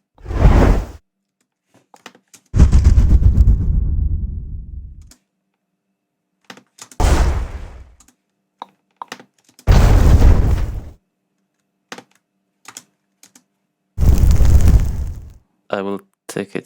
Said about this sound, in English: The rest is different explosion effects.